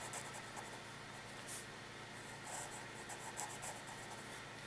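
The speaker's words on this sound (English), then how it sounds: "flex nibs, from my experience, tend to write a little more scratchy and tend to give a little more feedback" A Wortman Elite vintage piston-filler fountain pen with a flex nib scratches across paper, giving a faint, steady papery rasp with small bursts of stroke noise close up, nothing else audible.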